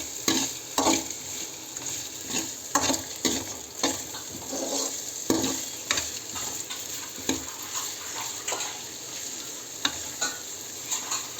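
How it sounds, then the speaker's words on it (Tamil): Chopped onions sauté in a hot pan, sizzling steadily while a spoon stirs and scrapes through them in repeated strokes, close and clear with no talking. "வெங்காயம் நல்லா வதங்கட்டும், அப்போதான் நல்லா டேஸ்ட் வரும்."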